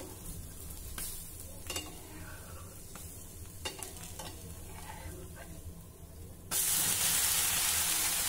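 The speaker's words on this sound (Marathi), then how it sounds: "आता खालच्या बाजूने देखील आपल्याला हे मस्त भाजून घ्यायचं आहे" A Marathi fasting dish fries and sizzles in a pan as it is flipped, with a steady crackle and light scraping taps, then a sudden loud hissing burst near the end.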